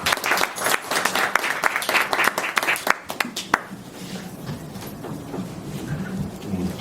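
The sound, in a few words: audience applause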